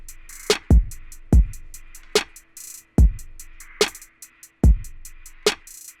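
Programmed drum loop playing back from a music production session, with booming kicks, crisp snares and fast ticking hi-hats in a steady groove, a kick missing from the second bar, loud and dry with no talking.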